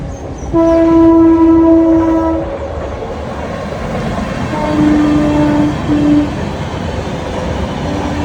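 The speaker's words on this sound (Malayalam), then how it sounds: "ലോക്കൽ ട്രെയിനുള്ളത് കണ്ടോ ഒന്ന് രണ്ട് മൂന്ന് ട്രെയിൻ ഇത് മെയിൻ ട്രെയിനാണ് പോയത്" A Mumbai local commuter train rumbles past with a long, loud horn blast, then a second shorter horn call as the rolling clatter continues.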